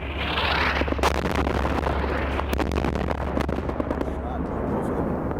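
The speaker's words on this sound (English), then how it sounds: "he had dropped his first JDAM on the target" JDAM bomb explosion striking a target building in combat, a sustained loud roaring blast with dense crackling bursts and pops over a low rumble throughout, with faint voices underneath.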